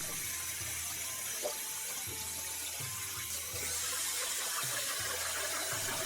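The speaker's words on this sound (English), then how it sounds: "First I wash the starch off the rice as much as possible," Basmati rice being rinsed under running tap water to wash off starch, a steady close gush and splash with soft shifting sloshes as the grains are swirled.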